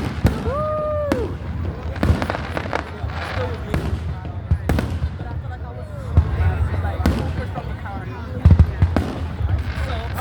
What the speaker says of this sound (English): It's a nice fireworks show to get the parade started